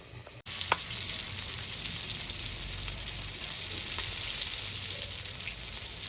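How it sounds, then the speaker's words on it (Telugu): Fish sizzling steadily in hot oil on a low flame, a dense continuous frying hiss with an occasional faint stir or turn, close and fairly loud with no talk. "సిమ్లో పెట్టుకొని మధ్య మధ్యలో తిప్పుకుంటూ ఫ్రై చేసుకోవాలండి."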